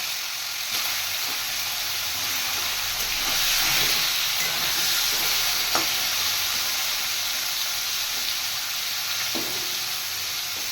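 Whole spiny gourds (kakrol) rubbed with turmeric and salt frying in hot oil in a kadai, a loud continuous close sizzle and hiss with a few faint clinks, no talking.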